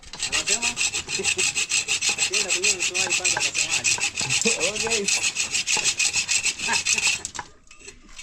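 Steady back-and-forth rasping of a handsaw cutting, rhythmic strokes close by for several seconds, with a brief spoken remark near the end.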